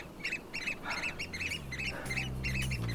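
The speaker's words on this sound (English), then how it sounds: "The birds are cheering you on. I hear them." Repeated bird calls, like ducks quacking, sound in quick bursts over a steady low rumble, fairly close and continuous.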